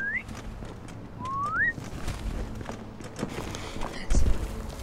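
A rising whistled call, two short upward sweeps, rings out in the Telltale Game of Thrones video game over outdoor ambience with footsteps and muffled voices.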